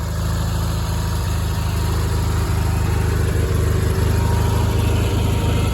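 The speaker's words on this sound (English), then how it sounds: "Letting my tractor run for a little bit to charge the battery." A small farm tractor's engine idling steadily to charge its battery, a loud close, even low throb with a regular rhythmic chug and no voices, continuing unchanged throughout.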